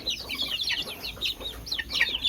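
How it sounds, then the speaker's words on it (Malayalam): Two-month-old chicks chirp and cluck busily close by, overlapping high-pitched calls in quick succession with no talking. "ഇത് രണ്ട് മാസം പ്രായമുള്ള കോഴിക്കുഞ്ഞുങ്ങളാണ്"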